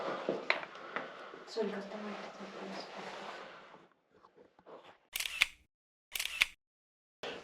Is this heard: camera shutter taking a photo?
yes